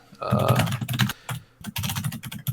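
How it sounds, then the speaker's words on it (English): Rapid clattering keystrokes on a loud computer keyboard, in bursts with brief pauses, close to the microphone, with some voice sound mixed in. "I'm gonna Google real quick with my super loud keyboard."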